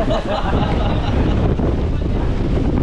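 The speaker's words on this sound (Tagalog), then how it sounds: "lakas na ng hangin" Strong typhoon wind roars and buffets against the microphone continuously on a farm, a dense, steady rushing noise with no break.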